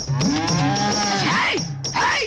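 A buffalo moos loudly and close by in a long, drawn-out call that breaks off and then rises again near the end, heard alone without any talk.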